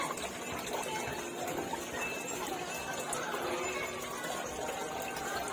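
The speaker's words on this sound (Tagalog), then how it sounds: "Ito yung filter natin sa overhead." Overhead filter in a crayfish aquarium tank runs continuously, a soft, even trickle and splash of falling water, close and quiet, with a faint voice in the background.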